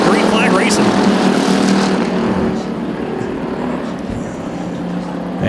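Bomber-class race cars at Arizona Speedway, a field of five, roar past under green-flag racing, their loud engine noise swelling up close and then easing slightly as they pull away.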